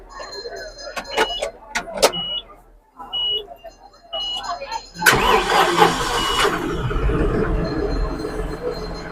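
A John Deere tractor engine starts at a stall at an agricultural fair. Voices and scattered clatter come first, then the engine catches with a loud burst and settles into a steady, close, rumbling idle.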